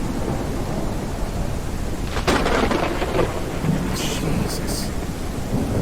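Simulated thunderstorm in the VR kayaking game Kayak VR: Mirage, with steady rain hiss throughout and a loud thunder crack and rumble rolling in midway, followed by fainter bursts.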